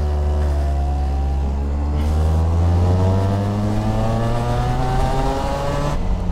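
A go-kart engine revving hard on a race track, a loud, steady buzzing drone that holds and climbs in pitch, heard close up with no talking.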